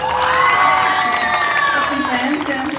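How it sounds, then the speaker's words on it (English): Crowd at a cycling team presentation in Victoria Square cheering and whooping for cyclist Grace, loud overlapping shouts and calls with applause beneath, voices prominent throughout. "I think Grace deserves another big round of applause."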